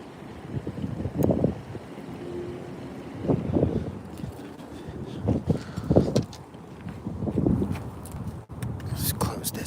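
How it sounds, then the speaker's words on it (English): Wind buffeting a microphone outdoors while bass fishing, surging in repeated rumbling gusts of low roar with brief lulls between them. "The wind's like just smacking me in the face right now."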